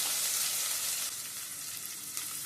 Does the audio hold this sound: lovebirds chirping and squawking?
no